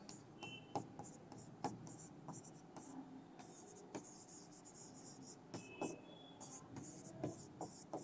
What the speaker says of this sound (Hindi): यहां पे लिख भी देता हूं मैं